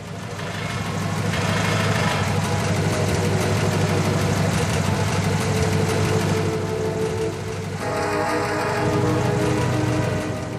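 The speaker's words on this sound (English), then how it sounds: "The carbureted engine is surprisingly quiet." A 1936 Chrysler Airflow with a carbureted engine idles in a steady, low, even rumble that runs through the whole stretch at a fairly close distance, with a voice talking over it.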